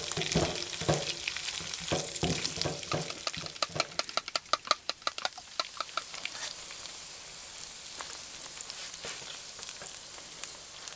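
Beaver meat fries in a pan, with steady crackling and sizzling and bursts of sharp popping in the middle, heard close and alone without talk.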